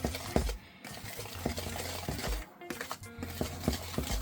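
Roti dough ingredients being stirred together in a bowl: close, irregular scraping and tapping strokes with soft, brief pauses, fairly quiet and free of talk.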